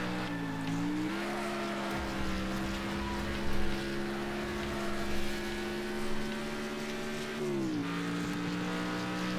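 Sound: nearby opponent car engine in Next Car Game video game

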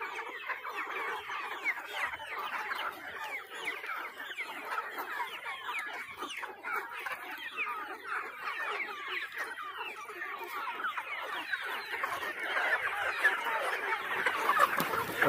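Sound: country chickens clucking on a poultry farm

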